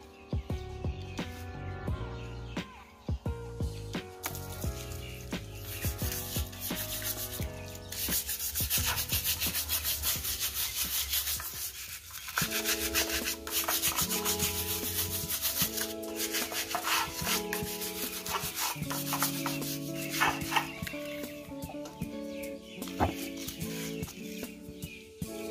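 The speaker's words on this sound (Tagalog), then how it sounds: "uhugasan natin siya ng sabon" A rusty old clutch cover is scrubbed with soap, producing continuous close rubbing and scraping strokes in a steady rhythm, with a faint tonal background of music or chirps underneath.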